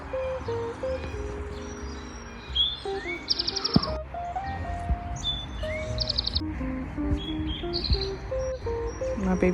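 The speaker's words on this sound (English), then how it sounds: "Birds!" Birds chirp and tweet outdoors in Connecticut, with several high calls and trills overlapping across a steady natural background and no talking.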